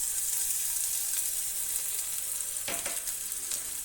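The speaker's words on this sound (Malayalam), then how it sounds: "ഇതിൻ്റെ ഒന്ന് പച്ചമണം മാറുന്നത് വരെ ഒന്ന് റോസ്റ്റ് ചെയ്ത് കൊടുക്കുക" Ginger-garlic paste roasting in a pan for a Karnataka-style mixed vegetable curry gives a steady, bright sizzle throughout, with a brief stir-scrape near the end, close and alone.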